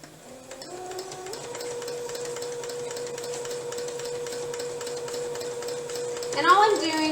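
A small domestic sewing machine quilts through layered fabric, its motor spinning up into a steady whirring hum with rapid needle ticking, fairly quiet and close, ending in a brief clatter.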